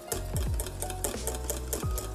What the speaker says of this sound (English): Okay, let's whisk again.